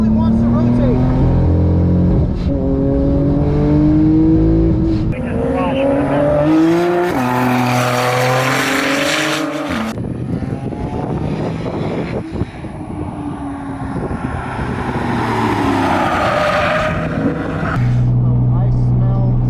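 An all-wheel drive race car revs hard under acceleration while one tire spins, a loud close engine climbing and dropping in pitch through gear changes, with a brief lull before it surges again.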